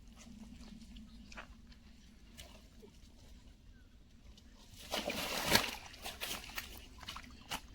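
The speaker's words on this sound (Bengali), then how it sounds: "অভদ্র মাছ ভিজিয়ে দিচ্ছে শুধু" A hooked fish thrashes and splashes at the surface of a ticketed fishing pond in Bandel, a sudden burst of sloshing water near the end after a quiet stretch of low background noise.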